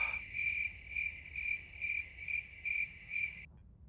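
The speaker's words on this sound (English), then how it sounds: "Stop with the freaking crickets." Cricket chirping ambience in the game Factorio: a close, steady looping trill pulsing in regular bursts, then cutting off abruptly near the end.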